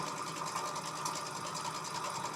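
A sewing machine stitches quilt strips in a steady, continuous whir at moderate level, with no talking.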